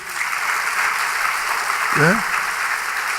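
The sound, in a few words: congregation applause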